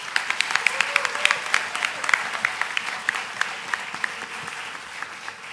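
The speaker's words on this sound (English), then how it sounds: "Let's give her another huge round of applause." An audience claps after a Kathak dance recital at a rangapravesh debut performance, with a brisk, moderately loud patter of hands, some individual claps standing out close by, and faint murmuring voices mixed in.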